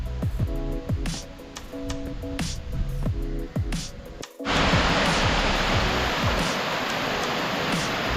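Mountain stream in Snowdonia on the way up Glyder Fawr on a rainy day, flowing as a steady loud rush of water that swells sharply partway through, with scattered footsteps and rustles early on.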